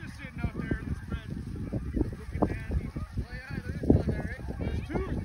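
Canada geese and snow geese honk and cackle across a field during a goose hunt. The calls come from many birds at once, fairly close, and repeat continuously while hunters speak.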